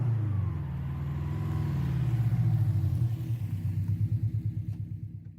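A Subaru Impreza WRX STI engine rumbles: a deep, loud idle that swells into a throaty rev, then settles into a pulsing, lumpy burble, close and with no talk.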